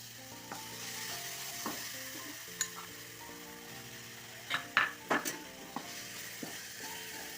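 Powdered jaggery stirred into ripe banana frying in a pan: a soft, steady sizzle with scattered spoon scrapes and light clicks against the metal.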